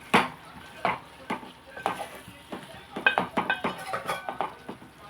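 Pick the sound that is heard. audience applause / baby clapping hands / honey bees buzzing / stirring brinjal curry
stirring brinjal curry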